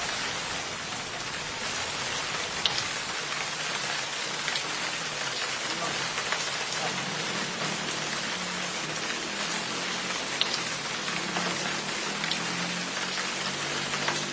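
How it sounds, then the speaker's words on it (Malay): Heavy rain pours down steadily, a dense, even hiss of drops on surfaces that stays loud and unbroken throughout. "masuk aja, ini hujan"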